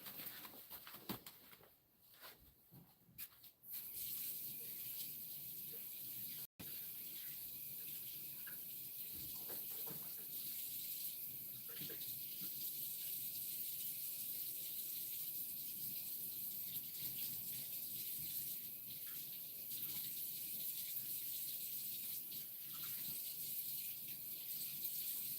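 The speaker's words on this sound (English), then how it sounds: "I'm gonna go get this rinsed off really quick." A fire rock rinsed under running tap water gives a steady, broadband hiss and splash that runs close and continuous, with a few brief handling knocks near the start.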